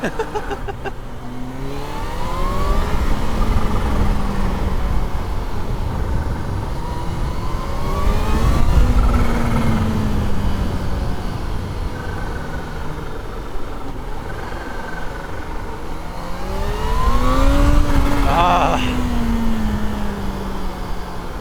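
A motorcycle engine on a bendy road revs up and shifts repeatedly, pitch climbing and falling through several gear changes, loud and close with steady road rumble beneath.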